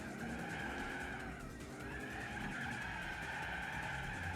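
Tires screech as a car slides deep into a corner in Gran Turismo 4, the squeal sustained over a steady engine drone for several seconds.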